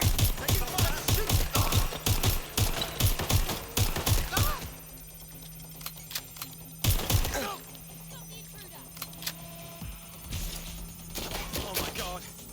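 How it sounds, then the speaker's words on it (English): Rapid bursts of gunfire from the video game Watch Dogs Legion, dense and loud through the opening seconds, then sparser shots later, with voices talking over parts of it. "Taking cover. Taking fire."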